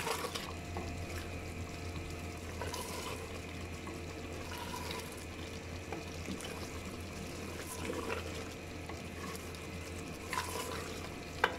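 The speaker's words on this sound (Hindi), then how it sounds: "ये मैं बैंगनों के साथ भून रही, गोश्त के साथ ही।" Eggplant and mutton fry together in a pan over the heat, giving a steady low sizzle with occasional scrapes and stirring clicks, fairly quiet and continuous.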